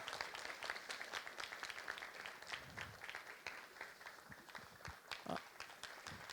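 A theatre audience gives scattered, faint applause after a full-length stage play, with individual claps distinct and distant rather than a dense roar.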